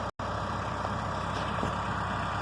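A vintage tractor engine idles steadily with a low, even rumble while the tractor is being loaded onto a trailer, heard alone at moderate distance after a brief dropout.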